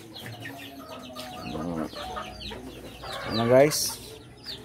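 Farm chickens being fed, active flock clucking and squawking nearby with several louder cackling calls, while someone speaks briefly over them.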